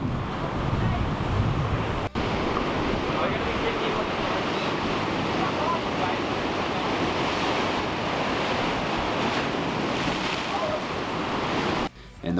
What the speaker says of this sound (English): the waves that were breaking on the rock I was standing on weren't that big previously, but this one was massive